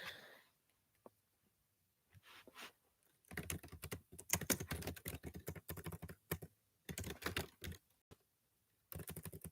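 Computer keyboard typing in bursts of rapid key clicks, with quiet gaps between runs, fairly close and loud with no talking.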